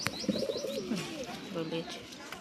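Domestic pigeons kept at home, including breeding adults, give low, close, throaty coos in a few soft phrases, with brief talk and light background noise.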